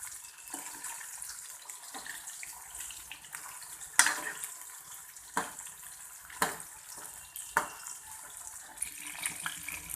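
Chicken 65 fries in oil over a medium flame, a soft continuous sizzle and crackle broken by a few sharper pops and clinks.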